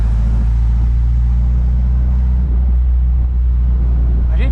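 An Athos 356 roadster with a boxer engine rumbles steadily up close, a loud continuous low drone held at an even idle throughout with no talk.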